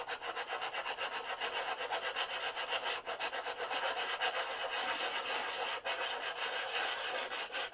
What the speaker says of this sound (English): We want to strip all this varnish off.